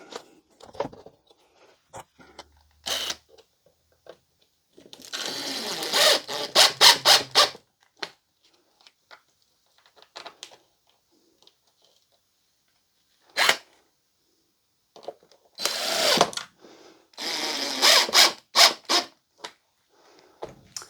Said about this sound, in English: so let's try and screw that into something.